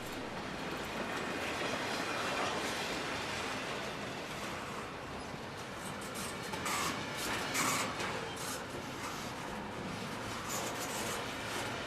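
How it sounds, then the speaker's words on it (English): A CSX freight train, the Q130 led by SD50-2 locomotives, rolls past at a distance with a steady, faint rumble and rattle of cars, some light clicking, and no talking. "Now the CSX Q136 and Q130 have come on their route and they actually went through North Collier."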